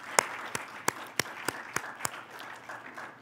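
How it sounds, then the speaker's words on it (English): Sparse, faint clapping from a small part of the audience at a nursing convention closing ceremony, honoring the Delta staff, about eight separate claps spaced roughly a third of a second apart over a quiet room. "So please join me in a round of applause to the Delta staff."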